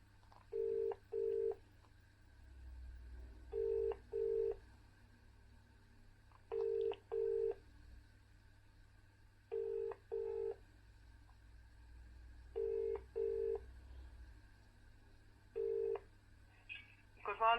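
A phone line rings while a call is placed to the records office at Chadderton, Oldham: steady paired double-ring tones repeating about every three seconds, clear and close as heard through the handset, with a low background hum.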